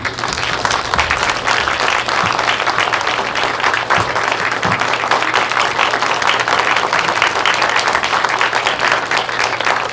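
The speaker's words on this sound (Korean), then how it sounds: "김진열 감독님 무대에 모시게 큰 박수 부탁드립니다" Loud, sustained applause from a large audience, a steady dense roar of clapping lasting throughout.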